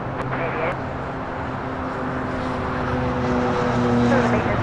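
British Airways Boeing 777-200ER heavy jet taking off at LAX for London Heathrow, a steady broad engine roar that swells slightly as it goes, heard from a distance with a continuous low hum.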